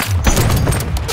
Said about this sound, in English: use my grenade